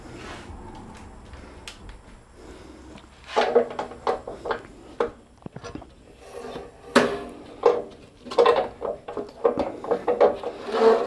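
The top knob of a Sip 01366 bandsaw is tightened by hand in a small workshop, giving repeated close scraping and rubbing turns in short bursts that grow busier toward the end, with no talking.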